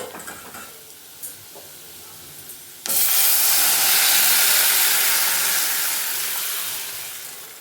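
Toor dal for a raw mango dal is poured into hot tempering, and an abrupt loud sizzle bursts out after a few quiet seconds, then holds as a strong, steady hiss of steam that slowly fades.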